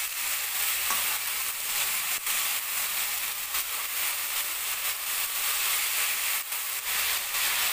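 Chopped medium potatoes fry and get stirred in a pan for a mushroom-potato sabzi, giving a steady, close sizzle with hiss and occasional scraping stirs throughout, no talking.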